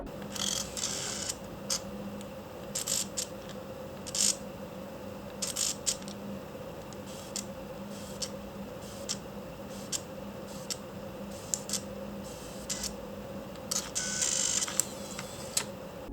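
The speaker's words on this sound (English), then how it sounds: "The motor inside is always like this really clanky, cranky machine that sounds like it's dying." Faint, irregular mechanical whirring and clicking in short bursts over a steady electrical hum as the lens motor of a used Ricoh GX100 digital camera retracts, grinding in and out.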